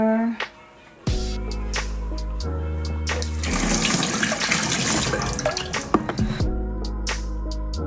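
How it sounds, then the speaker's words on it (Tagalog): Cold tap water runs steadily into a bathroom sink while someone washes their face, with splashing and dripping starting and stopping over several seconds. "Super lamig na tubig yung pinanghihilamos ko."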